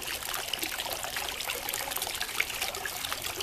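A garden water fountain trickles in a soft, steady, continuous flow, faint and alone with no voices over it.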